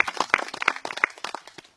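A small audience at an archery garden's anniversary gathering applauds briefly, scattered claps rising sharply and then fading out within two seconds.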